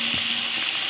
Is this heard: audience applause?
no